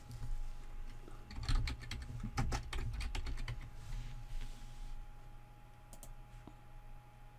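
Computer keyboard typing and mouse clicks while renaming a client folder in SharePoint: quick bursts of close, crisp key taps clustered in the first few seconds, then a few sparse clicks over quiet room tone.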